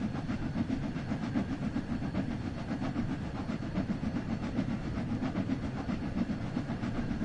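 Black Arrow steam locomotive running in Train Sim World 2, a steady close rumble with continuous rhythmic wheel clatter, no voices.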